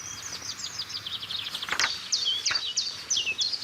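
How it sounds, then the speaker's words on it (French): A Eurasian blackcap sings outdoors: a run of quick, bright warbling phrases, moderately close, over soft background hiss with a few other faint calls. "Donc une fauvette à tête noire qui chantait."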